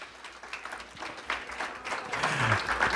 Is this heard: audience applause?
yes